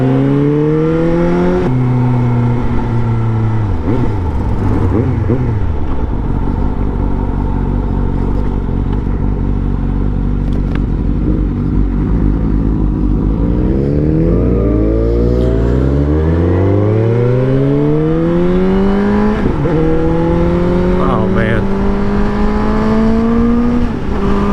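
A Suzuki GSX-S 750 engine revs hard while being ridden, loud and close, climbing through the gears in repeated rising sweeps with brief drops between shifts, no talk over it.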